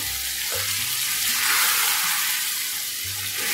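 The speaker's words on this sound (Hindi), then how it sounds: "अब इसे हम 2 से 3 मिनट तक पकाएंगे।" Mutton with kasuri methi frying in a pan gives a loud, continuous close sizzle with occasional stirring scrapes, no voices over it.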